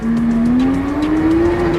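A Porsche 911 GT3-style sports car engine with center-exit exhaust revs loudly and steadily, its pitch climbing smoothly as it accelerates, close and continuous throughout.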